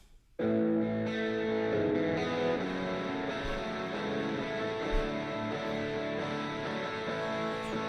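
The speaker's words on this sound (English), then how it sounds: "First we have some power chords." Heavy distorted electric guitar power chords ring out continuously, thick and sustained, with a few chord changes and no voices.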